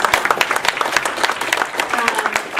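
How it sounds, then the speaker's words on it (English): Applause at a community town hall meeting in Sault Sainte Marie, a short burst of crowd clapping with voices talking over and among it. "Let's please give Hannah one more round of applause."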